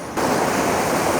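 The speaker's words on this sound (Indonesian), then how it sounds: "suara desis air mengalir" Water rushing and hissing through an unfinished floodgate channel on the Kali CBL canal, a loud steady broadband roar that starts abruptly and continues without pause.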